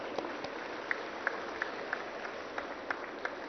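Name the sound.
audience applause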